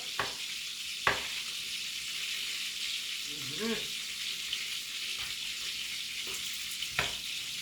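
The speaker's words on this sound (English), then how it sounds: "So all I want to do is just saute it down a little." Vegetables sautéing in a pan for a fried snapper lunch make a soft, continuous sizzle, with a few sharp clicks and a brief clatter of utensils.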